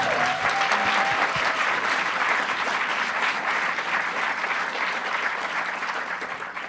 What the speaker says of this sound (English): Keep applauding for the whole panel.